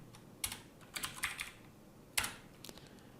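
A Windows 10 computer keyboard clacks as a short command is typed: a few quiet, scattered keystrokes in small clusters with pauses between them, close by and alone, with no talking.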